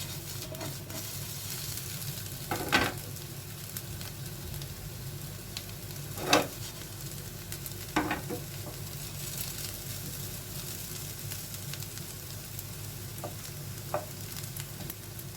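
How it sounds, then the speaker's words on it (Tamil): Potatoes frying slowly over low heat in a pan, a soft, fairly quiet sizzle under a low steady hum, broken by a few louder scrapes of stirring; no talking. "இது கொஞ்சம் சிம்லேயே வச்சு கொஞ்சம் ஃப்ரை பண்ணணும்"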